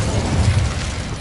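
An Incendio fire spell bursts in Hogwarts Legacy, a fantasy video game, giving a continuous low whooshing, rumbling roar that swells briefly in the middle and stays loud throughout.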